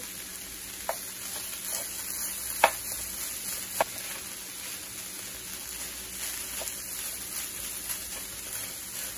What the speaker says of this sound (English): So this is some mozzarella cheese. We're going to go ahead and add this right into the pan.